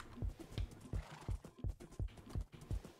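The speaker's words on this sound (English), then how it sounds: "Let me get on a horse, though" A horse in Minecraft trots along with steady, evenly spaced hoof clip-clops, about eight soft thuds in three seconds, close and moderately quiet with no talk.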